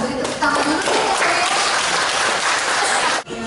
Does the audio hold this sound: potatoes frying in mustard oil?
no